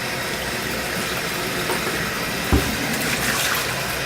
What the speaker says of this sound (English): Make sure you always rinse the bucket out if you put the dirty water in.